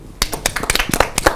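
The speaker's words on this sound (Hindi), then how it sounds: "तालियां।" Clapping from an audience celebrating India's 61 medals at the 2022 Commonwealth Games, a burst of sharp claps at close range with an uneven, scattered rhythm that starts abruptly and continues steadily.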